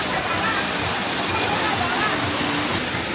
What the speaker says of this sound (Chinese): 你看闸前建了这么一个水车瀑布